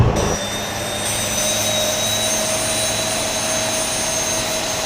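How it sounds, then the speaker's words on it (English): A Boeing 737 MAX jet engine idles in a flight simulator game, a steady, loud whine with a low rumble and high tonal whistles that hold without a break. "now we have one engine fired up and ready to go."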